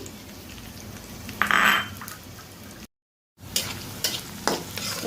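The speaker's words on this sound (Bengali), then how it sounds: "আমি মাছের যে তেলটা ছিল সেটা হচ্ছে কি আমি একটা কড়াই ঢেলে নিয়েছি তো আমি এর মধ্যে এক কাপ পেঁয়াজ দিয়ে দিচ্ছি" Onions frying in leftover fish oil in a wok, a steady sizzle with a brief louder burst and spatula scrapes and stirring clatter, briefly cutting out before the sizzling and stirring resume.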